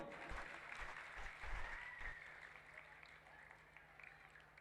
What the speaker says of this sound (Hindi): भैया के लिए जोरदार ताली